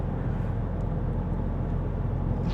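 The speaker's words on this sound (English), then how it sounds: "I'm in a bit of Sydney traffic now." Road traffic in Sydney heard from inside a vehicle, a steady loud low rumble of engines and tyres with no speech.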